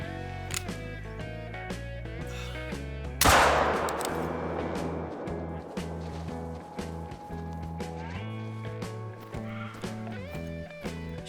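A single sharp, loud Ficoso 357 pistol shot in theHunter: Call of the Wild rings out over a steady music bed, followed by a long echoing decay, with footstep-like taps scattered throughout.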